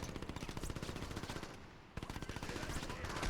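Rapid bursts of automatic gunfire from enemies shooting at each other in the video game Crackdown, dense and continuous with a brief gap before the firing resumes.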